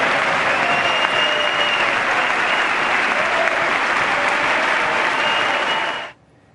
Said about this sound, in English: that did get the longest applause